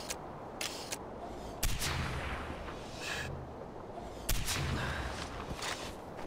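Gunfire from the Far Cry 4 video game, with two loud bursts of shots and impacts standing out over a dense, continuous noisy game soundscape.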